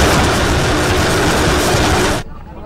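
A meter gauge trial train running through the hills and valleys of Kenya's Rift Valley: a loud, steady broadband roar of rolling wheels and engine that cuts off sharply near the end, leaving quieter background.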